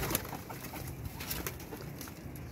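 Soft pigeon cooing nearby, low repeated murmurs over a faint background hum.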